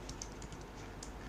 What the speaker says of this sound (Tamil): ஸோ இப்போ நான் என்ன பண்ணுறேன்னா அதை மேனுவலாக டைப் பண்ணுறேன்